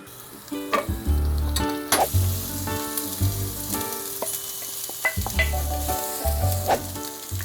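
Food being stir-fried in a pan, loud and close, with a continuous sizzle broken by repeated rhythmic scraping and tossing strokes of a utensil against the pan.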